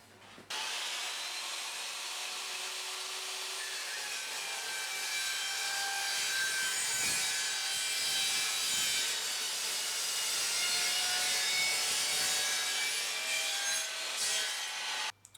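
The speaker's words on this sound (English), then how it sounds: "We're now going to cut this piece of aluminium profile." An Evolution Rage 2 saw cuts through a piece of aluminium profile with a steady, loud, high-pitched grinding whine that runs unbroken for about fourteen seconds and then stops abruptly, with no talking.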